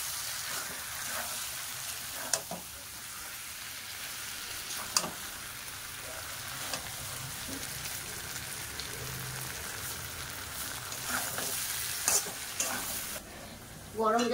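Mutton curry with papaya and potato being stirred as it fries in oil that has separated from the masala: a faint, continuous, hissy sizzle with a few sharp clicks and scrapes from the spoon.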